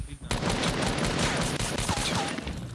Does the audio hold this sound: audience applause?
no